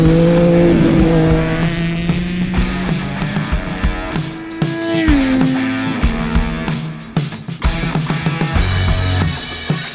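A 1000cc motorcycle laps a race circuit through a technical first-gear corner, its engine loud and close, revving hard and sliding up and down in pitch with quick throttle blips and shifts throughout.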